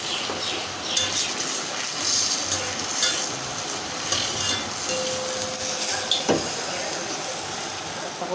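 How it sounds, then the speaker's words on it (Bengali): Lentil fritters fry in oil with a soft, continuous hiss and low crackle, fairly faint, with occasional clinks and background voices. "ডালের বড়া লাল লাল করে ভেজে নিই।"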